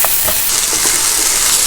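Ginger garlic paste sizzles and fries in a hot pan as the base for a Kerala-style beef roast, giving a close, steady hissing crackle with a few soft stirring scrapes and no talking.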